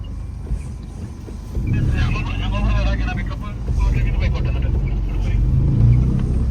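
A loaded lorry approaches on a narrow muddy hill road, its engine a deep, rising rumble that grows louder and nearer under a steady drone, while people talk over it.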